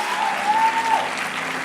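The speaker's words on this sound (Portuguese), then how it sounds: "Você dá uma salva de palmas a Jesus onde você está." A church congregation applauds continuously, a soft wash of clapping with a faint sustained tone running through it.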